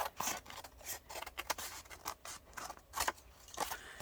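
Scissors trimming paper around a collage cutout for a 5x7 card, a quiet, close run of repeated snips and rasping paper rubs in an irregular rhythm, with no talking.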